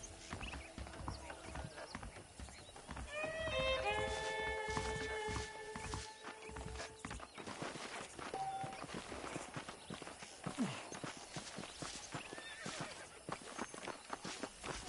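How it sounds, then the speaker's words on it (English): Horse hooves clip-clopping on the ground in the western video game Red Dead Redemption, repeated steady hoofbeats with a whinny partway through, under game music and someone talking. "The horses are saddled up over here."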